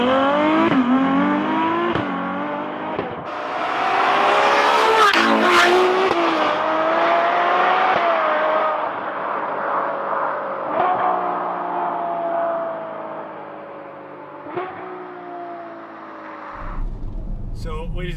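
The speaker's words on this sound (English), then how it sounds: "So cue some flying drive-by shots." A Ferrari 812 Superfast with its V12 engine drives by on the road, roaring loudly and steadily with rising and falling engine pitch for most of the pass before cutting off abruptly at the end.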